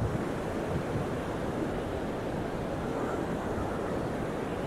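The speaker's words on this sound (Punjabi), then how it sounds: "ਹਵਾ ਵੀ ਤੇਜ਼ ਆ ਪਾਣੀ ਵੀ ਬਹੁਤ ਤੇਜ਼ ਹੋ ਗਿਆ ਆ" On the Manimahesh Yatra trail between Dhancho and Shivghrat, a fast mountain stream roars in a dense, steady rush, mixed with strong wind buffeting the microphone, with no talking.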